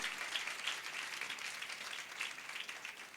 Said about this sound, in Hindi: ताली बजा देंगे इन कोढ़ियों के लिए